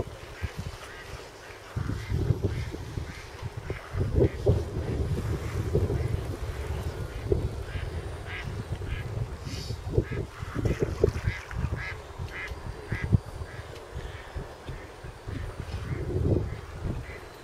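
A duck sits on a fishing lake and gives occasional quacks over steady wind buffeting the microphone, with low rumbling outdoor noise throughout and no talking.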